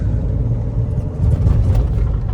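Mahindra XUV500 SUV cruising in fourth gear on a road, a steady, muffled low engine and road rumble heard from inside the cabin, with no speech.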